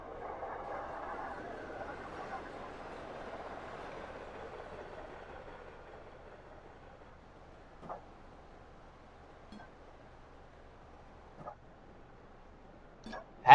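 A freight train hauled by an EMD SD40-2 locomotive in Train Simulator 2017 rumbles past as a broad, steady roar that slowly fades, followed by a few sparse clicks and knocks, with no talking.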